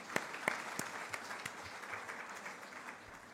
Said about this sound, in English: claps for him